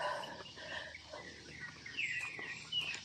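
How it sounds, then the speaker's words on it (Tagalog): Birds chirp and call faintly in open grassland near Sequero Cave in Dasol, Pangasinan, with scattered short song phrases over quiet insect-like background hiss. "maririnig mo, no? Mga tuwang-tuwang mga ibon."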